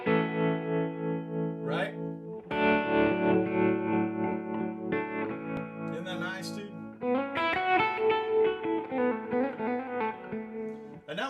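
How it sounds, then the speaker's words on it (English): Electric guitar played through a plate reverb pedal, sustained chords and single notes ringing with a smooth lingering wash, close and fairly loud, with a voice speaking briefly near the end. "And now I'm going to add the reverb. What I've got is the plate on right now."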